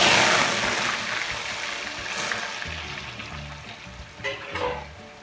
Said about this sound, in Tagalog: Dahil ang gagawin natin ngayon is ipiprito muna natin ang tokwa.